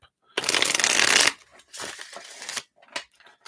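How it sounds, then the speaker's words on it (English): Tarot cards are shuffled in a few quick bursts: a long riffling flutter followed by shorter shuffles and soft slaps, close up. "let's try this again. Let's shuffle these up."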